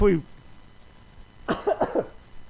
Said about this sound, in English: I coughed again.